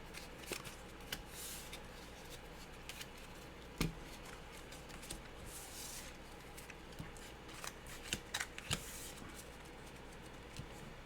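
Playing cards are shuffled back into a deck during a solo dungeon-crawl tabletop game, soft papery riffling and light clicks at low volume, close and alone without talk.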